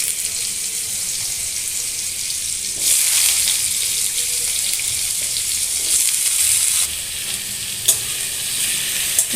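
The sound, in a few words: potatoes and chillies frying with black cumin in hot oil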